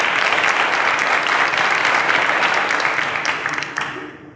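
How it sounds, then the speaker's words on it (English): A studio audience applauds a contestant on a quiz show, a dense, steady wash of clapping that holds loud and then thins toward the end. "A round of applause to Faith, ladies and gentlemen"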